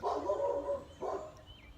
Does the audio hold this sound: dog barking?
yes